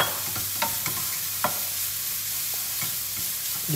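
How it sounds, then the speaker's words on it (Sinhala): Rice and grated coconut stirred and roasted together in a pan for a Sri Lankan brown pumpkin curry, a steady dry sizzle with several scraping stirs of the spoon, close and alone. "මම හල්පොල් දෙකම එකට දාලා මම මේක බදිනවාද"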